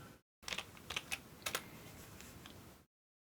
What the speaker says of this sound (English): We can type help modules.